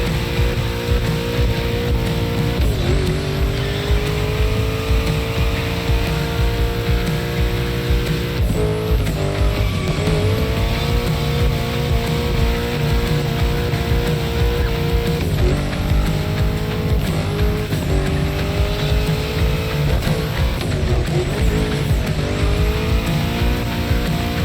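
In The Crew Motorfest racing game, a car drifts through bends, its engine droning and revving continuously while tires squeal repeatedly in long, loud skids.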